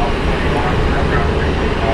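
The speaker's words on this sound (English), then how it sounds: "it's American 290, a 787 Dreamliner heading to Rome" An American Airlines 787 Dreamliner jet airliner taxis at Dallas Fort Worth airport, producing a steady, broad roar of engine noise at moderate distance.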